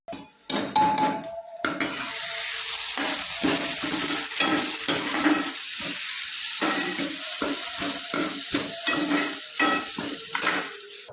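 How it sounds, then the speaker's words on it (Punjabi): Cumin seeds, green chili and onion dropped into hot oil for a tempering: bright crackling sizzle that starts abruptly and continues, mixed with clattering of a spoon against the pan. "ਹੁਣ ਤੜਕਾ ਲਾ ਕੇ ਮੈਂ ਹੁਣ ਇਹ 'ਚ ਜੀਰਾ ਪਾਉਣੀ ਆ ਤੇ ਮੈਂ ਹਰੀ ਮਿਰਚ ਤੇ ਪਿਆਜ਼"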